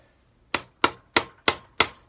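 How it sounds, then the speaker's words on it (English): A hammer tapping a scooter part to free the brake caliper, five sharp metallic knocks in an even rhythm, close and loud in a quiet workshop. "we're going to give it a little tap"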